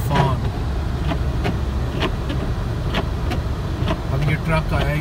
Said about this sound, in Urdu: اب یہ ٹرک آیا ہے, یہ سالٹ پھینک رہا ہے سارا روڈ پہ